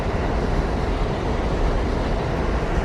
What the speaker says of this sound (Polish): Chociaż nie, teraz metro jedzie.